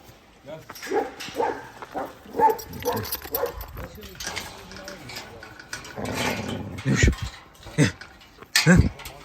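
A puppy growls and yips in short, close bursts, with a person talking and cooing over it throughout.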